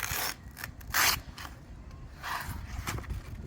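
A Stanley knife slicing and scraping through material while installing a horizontal timber screen, a few short rasping cuts with sharp bursts, close and fairly clear over a low outdoor background.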